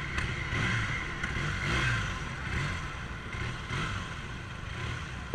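A Honda CB400 motorcycle being ridden, its engine a muffled, fairly faint drone that swells and eases gently with the throttle under wind rush.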